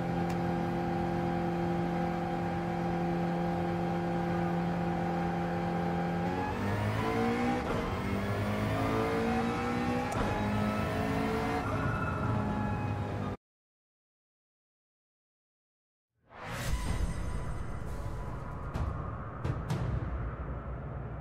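Race car engines in Gran Turismo 7 qualifying drone at a steady pitch, then rev and climb through gears. After a sudden silent gap they return with sharp revving, loud and close.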